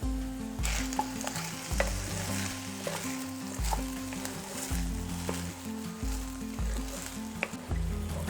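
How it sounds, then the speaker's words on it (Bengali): Steady frying sizzle of ginger paste in a pan, with periodic scraping and clinks as it is stirred, continuous and close. "আদাটা দেওয়ার পরেও 1 মিনিটের মতন ভাজা ভাজা করে নিয়েছি।"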